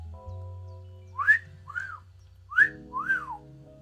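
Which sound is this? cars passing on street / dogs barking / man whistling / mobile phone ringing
man whistling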